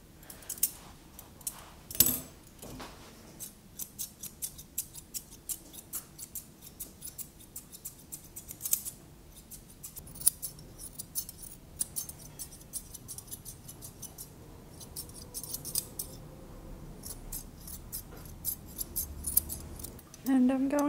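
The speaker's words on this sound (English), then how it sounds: "And then I'm just snipping off those little dark hairs." Grooming scissors snip at a dog's coat in quick, light, close clicks, scattered steadily throughout with soft background noise.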